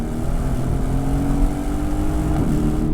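A Mercedes-AMG C63 S pulls hard under full throttle, its engine a loud, steady, rising roar heard from inside the car, continuous for the whole stretch with no talking.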